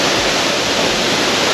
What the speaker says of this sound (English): the most spectacular waterfall we've seen